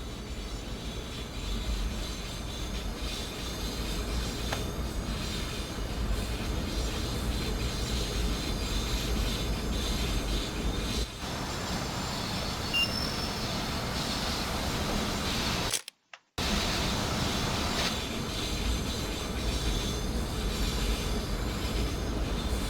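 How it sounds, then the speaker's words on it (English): An MBTA commuter train in Train Sim World 2 rolls past on the Boston line with a steady rumble, wheels squealing and clattering along the rails, fairly distant and continuous. "There's an MBTA train going to the yard."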